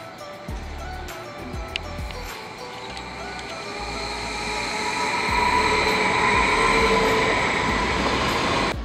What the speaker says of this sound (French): Nous voici à la gare de Montreux.